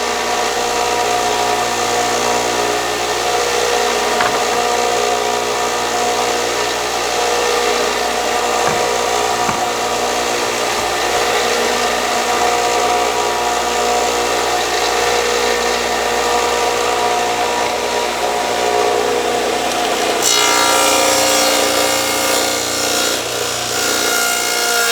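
A stacked dado blade on a 12-inch table saw cuts a groove through black walnut, a loud steady whine of spinning blades biting wood that runs continuously, then shifts to a brighter, harsher pitch near the end, with no talking.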